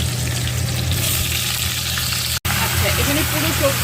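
Washed ridge gourd and taro hit browned tempering in a hot frying pan, setting off a loud, continuous close-up sizzle with a brief cutout partway through.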